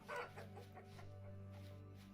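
Chickens in the video game Vintage Story give several quick, faint clucks in a row over a low steady hum.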